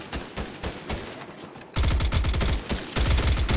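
Rapid bursts of gunfire in Fortnite Zero Build squads, quieter shots at first, then much louder, dense close-range volleys.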